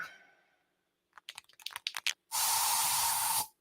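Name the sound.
bug spray being sprayed in a radio advert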